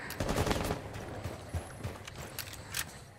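Enemy gunfire in a shooter video game, a burst of rapid close shots up front followed by scattered single cracks and distant pops, fairly loud throughout.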